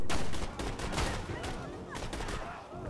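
Rapid bursts of gunfire from the video game Borderlands 2, dense overlapping shots with explosive cracks throughout, loud and close, with faint game effects underneath.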